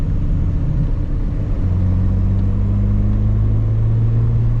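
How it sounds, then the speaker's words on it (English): Datsun 280Z with fuel injection driven on the road, its engine droning steadily and rising slightly in pitch as throttle is added, loud and close from inside the car. "maybe I'll give it a little bit of extra gas"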